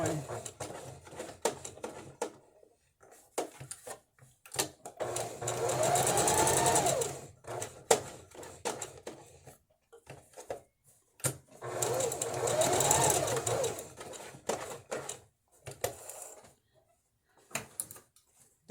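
A sewing machine stitches fabric shapes in two long runs of steady buzzing needle rhythm, separated by pauses with quiet handling clicks and brief speech between them.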